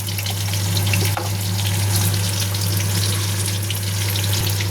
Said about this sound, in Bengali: এবার আমি এই কড়াইতেই দিয়ে দেবো কিছু গোটা জিরে